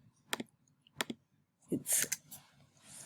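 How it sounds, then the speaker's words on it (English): A computer mouse clicks a few times in sharp, isolated taps, then gives way to a short burst of louder, busier noise. "I'm just clicking on them and deleting them"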